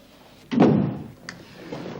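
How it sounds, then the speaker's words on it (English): A door swings shut with a single firm thud in a quiet room, followed by a faint brief knock and soft background rustle. "Close the door."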